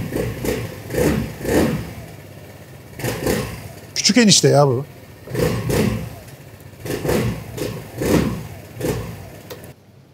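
Warm Royal Alloy scooter engine revved in repeated short throttle bursts that rise and fall over a steady idle, close and loud, with someone speaking briefly in the middle.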